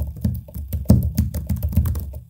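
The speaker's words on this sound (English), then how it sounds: "this is what it sounds like when I'm typing on the keyboard while recording" Typing on the keyboard of an ASUS ProArt PZ13 tablet, picked up by its own built-in microphone: quick, uneven clusters of hollow key taps and clacks, close and fairly loud, with no talking.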